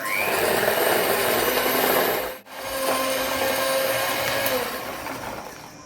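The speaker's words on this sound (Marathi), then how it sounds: "परत आपण हे 2 मिनिटं छान असं फेटून घेऊया." Biscuit batter being beaten with half a cup of sugar for a homemade Nice biscuit recipe, a steady continuous whirring of an electric beater with a brief dip midway, close and fairly loud, no talking.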